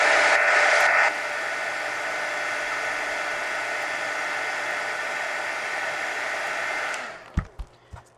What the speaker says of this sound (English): Let me hit it with the heat gun because it's still red.